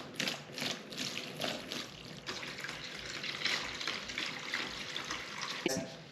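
Kerosene poured into a bucket for cleaning a dirt bike air filter, a continuous liquid splashing and trickling with faint clinks, close and steady, ending in a brief louder clatter.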